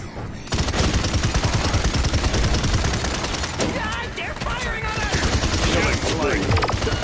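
Gunfire in the Paladins shooter game: loud, rapid bursts of shots in a nearly continuous fusillade with clattering effects, a voice briefly audible beneath the din.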